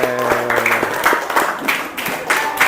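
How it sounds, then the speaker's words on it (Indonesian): Brief scattered clapping from pupils in a classroom, a few uneven bursts of hand claps close by, with some faint voices mixed in. "tepuk tangan untuk kita semua"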